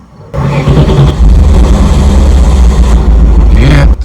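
A Duramax diesel truck engine cranks and struggles to start, a loud close churning rumble that sputters unevenly for a few seconds before cutting off.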